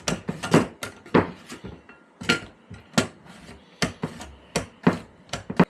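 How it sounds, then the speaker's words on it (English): A knife chops through large homegrown cucumbers on a board for pickles, a series of sharp, close, irregular thuds and clacks with brief pauses between cuts. "So look how many cucumbers we got sliced now"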